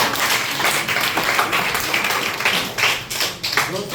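A seated audience at a motivational business seminar claps in a sustained, dense round of applause, fairly loud and continuous throughout.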